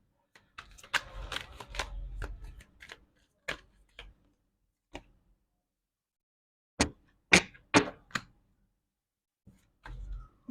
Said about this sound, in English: I'm gonna draw one card.